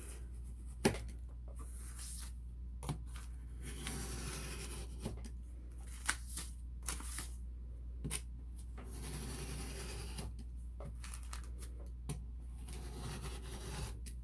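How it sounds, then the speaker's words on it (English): A knife cutting through paper for a sewing journal: repeated scraping, rubbing strokes with short sharp ticks scattered throughout, quiet and close over a low steady hum, no talk. "take our knife and cut right through the paper"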